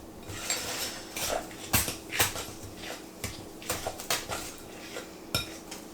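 Peanut butter swirl cookie dough being mixed in a bowl, heard as repeated clinks and scrapes of a utensil against dishware in an uneven rhythm, close and moderately loud, with no talking.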